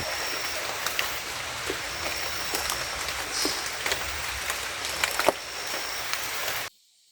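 Rain falls steadily in a tropical forest, a soft continuous patter with scattered nearer drips and taps, and a few faint bird calls in the background, before cutting to silence at the end.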